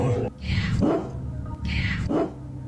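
Dogs bark in two short bursts, each a quick pair of barks, fairly close and moderately loud, with speech present in the clip.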